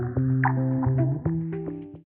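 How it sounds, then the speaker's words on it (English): A generator runs outside the front of a house while work goes on nearby, giving a steady, droning harmonic hum with faint ticks that holds for about two seconds and then cuts off. "So you may hear the generator in the background,"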